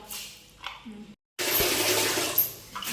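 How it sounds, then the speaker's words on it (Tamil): Water splashes and swirls as goat trotters are rinsed, loud sloshing bursts broken by a short silent gap, with a faint voice in the background. "இதை நம்ம தண்ணி போட்டு நல்லா அலசி எடுக்கணும்."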